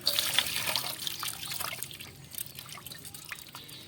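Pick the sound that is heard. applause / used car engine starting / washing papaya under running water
washing papaya under running water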